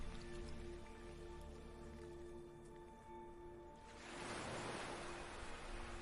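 Water washes in and draws back along a shore, a soft broad rush that swells into a louder, fuller surge toward the end under a faint steady tone, with no voice.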